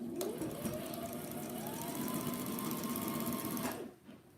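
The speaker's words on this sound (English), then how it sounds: "Sew right over it." A sewing machine runs steadily while stitching a fabric infinity scarf, a continuous close whirring motor with rhythmic needle clatter for several seconds before stopping abruptly.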